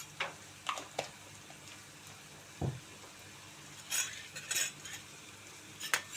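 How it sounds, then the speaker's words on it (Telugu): Spoon stirring an egg curry in a pan after ginger-garlic paste goes in, a few scattered scrapes and clinks against the metal over a faint background, with long quiet gaps between strokes. "ఇప్పుడు బాగా కలుపుతున్నామండి"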